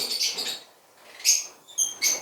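African lovebirds in a breeding pot give a few short, high chirps in quick bursts, close by and fairly clear, with quiet gaps between calls.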